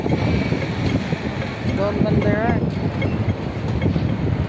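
Steady wind rumbling against the microphone at the immigration tower in Tseung Kwan O, Hong Kong, with a brief spoken phrase and a faint whistling tone partway through.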